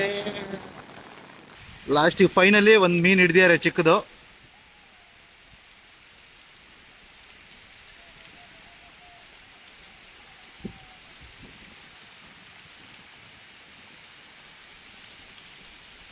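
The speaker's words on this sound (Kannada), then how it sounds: "ಮಳೆಯೋ ಮಳೆ." Rain falls steadily by a river near Thirthahalli in Shimoga, making a constant soft hiss. Someone speaks briefly near the start, then the rain continues alone.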